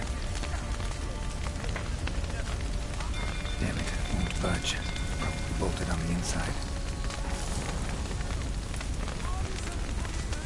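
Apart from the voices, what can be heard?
rain falling in the video game Witcher 3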